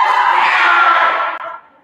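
Children cheering and shouting together in a loud, sustained crowd roar at a youth gathering, holding steady before trailing off at the end.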